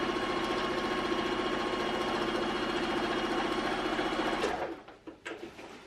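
A sewing machine stitches a straight seam along a stair tidy bag in one steady, loud, continuous run for several seconds, then stops with a few short handling noises.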